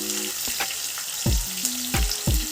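Ingredients for a sweet corn and okra soup fry in a pan, with a steady close sizzle broken by several sharp stirring scrapes and clatters, and no talking.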